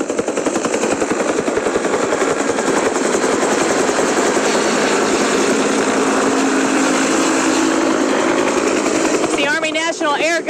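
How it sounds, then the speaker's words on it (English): National Air Guard helicopter passing over flooded ground, its rotor chop loud and steady in rapid rhythmic pulses that fill the scene, with a few faint higher tones at the end. "There's the helicopter right now. You can hear it."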